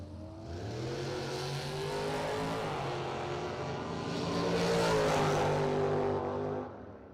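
Drag racing cars, one of them a Corvette, launch down the strip at a Halloween shootout, a loud sustained engine roar that builds and swells as they accelerate away.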